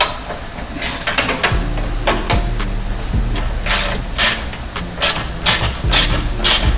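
A wrench tightening fasteners on an SDR Pro XP2 door kit, heard as a run of repeated sharp metallic clicks and ratcheting strokes over steady background hiss and low rumble.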